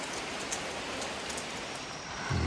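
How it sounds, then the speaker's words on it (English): Steady rain falls in Hawaii, giving a dense, close hiss of drops on surfaces that continues evenly throughout with no voices. "Rain usually only lasts for about 5-10 minutes, if that sometimes here"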